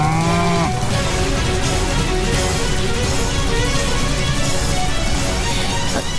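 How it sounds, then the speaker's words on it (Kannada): Oxen in a Kannada TV serial let out a long, loud moo at the start, then a dense, continuous rumble of movement and commotion fills the rest as the animals bolt away, with no speech over it. "ನಮ್ಮ ಎತ್ತುಗಳು ಓಡಿ ಹೋಗುತ್ತಿವೆ."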